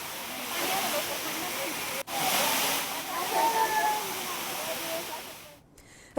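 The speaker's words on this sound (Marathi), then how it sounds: "गडाच्या पायऱ्यांवरून हे पाणी अक्षरशः धबधब्यासारखं खाली येत आहे" Rainwater pours down the stone steps of Jejuri fort in a steady, hissing rush like a small waterfall. A brief drop in the sound comes partway through, and voices speak faintly over the flow.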